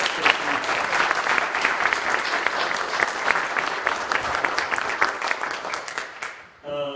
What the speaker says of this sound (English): I would ask you to give him a hand of applause